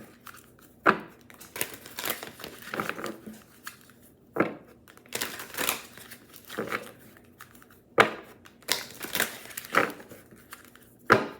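Cards being shuffled by hand close up, repeated bursts of riffling and rustling in uneven groups separated by short pauses.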